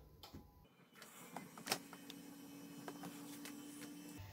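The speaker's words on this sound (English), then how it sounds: "It turns on the 3D printer remotely" A 3D printer powering up after being switched on remotely through a hacked Sonoff wifi switch gives a faint electrical hum with light clicks and mechanical noises, steady and fairly quiet throughout.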